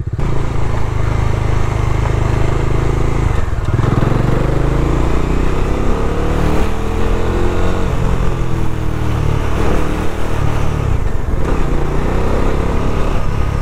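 A modified Bajaj Dominar 400 motorcycle is ridden, its engine droning loud and close throughout, with the pitch shifting as the rider works the throttle up and down.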